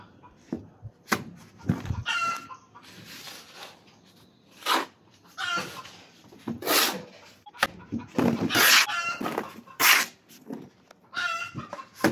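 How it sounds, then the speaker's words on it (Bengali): A person calls out repeatedly to chickens with short clucking sounds, the calls coming in bursts with brief pauses between them. "মুরগি ডাকতেছি"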